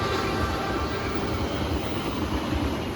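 The Cikuray passenger train rolls past on an Indonesian railway line, a loud, continuous close-range rumble and roar of wheels and carriages with no talk over it.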